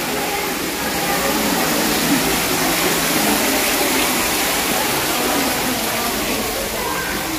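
Steady water gushes from a tap at Padre Pio Church in Batangas, a loud, constant hiss and splash with no breaks, close to the listener.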